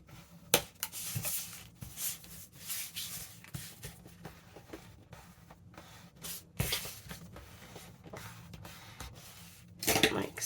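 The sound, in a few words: burnishing paper bag ephemera for junk journal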